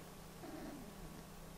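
A tired house cat lying on the floor purrs softly and steadily, a faint low rumble close by with no talking.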